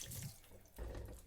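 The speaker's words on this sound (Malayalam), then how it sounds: "ഇനി ഇതിലേക്ക് ആവശ്യത്തിനുള്ള വെള്ളം ചേർത്ത് കൊടുക്കണം." Water is poured into fish curry masala in a pan, making a short, close splashing gush in two bursts with a brief dip between them.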